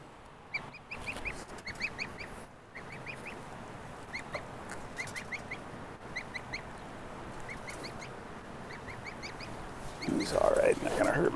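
A lone gosling raised apart from the flock honks in a garden, repeated nasal calls at mid distance, with a louder burst of honking close by near the end.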